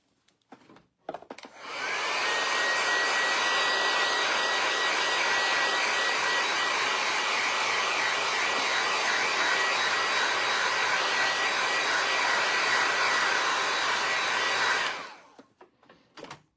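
A hand-held dryer blows steadily over a freshly painted resin-cast ornament, a loud, continuous whooshing roar that runs unbroken for about thirteen seconds between brief quiet moments at the start and end.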